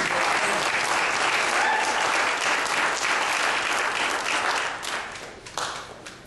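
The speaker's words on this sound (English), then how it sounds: "how many of you can give a clap for research?" A church congregation claps loudly and continuously during a Trinity Church sermon, the dense applause holding steady before thinning and fading near the end.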